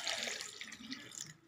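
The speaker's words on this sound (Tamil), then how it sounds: "ஒரு சம் தண்ணி ஊற்றி" Water splashes steadily into a clay pot to soak ragi, a brief, faint pour lasting about a second and a half.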